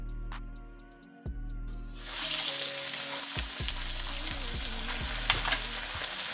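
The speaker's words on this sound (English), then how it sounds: "Let's sear these up until they get golden brown on each side." Oxtails being laid into about three quarters of a cup of smoking-hot olive oil in a wok: a tonal hum and a few clinks, then a loud sizzle that erupts and keeps crackling close by, punctuated by scrapes and knocks.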